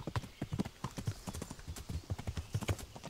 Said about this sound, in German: Ich denke, wir reiten noch nach Vranik